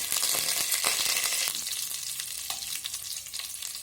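Curry leaves and chillies hit hot fat and crackle loudly up close, a bright sizzling burst that settles into a lighter spatter.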